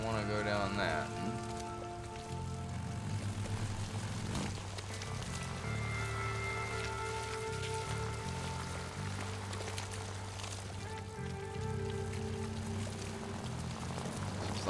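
Rain falls in the video game Days Gone, a steady hissing patter that continues throughout, layered under droning game music and low engine hum.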